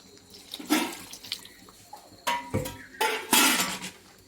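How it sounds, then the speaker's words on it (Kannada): Water splashes and pours in short bursts into a metal pot of rasam, with clinks of the pot, close by, with quiet pauses between pours. "ನೋಡಿ ನಾನು ಸ್ವಲ್ಪ ನೀರು ಪುನಃ ಹಾಕ್ತಾ ಇದ್ದೇನೆ"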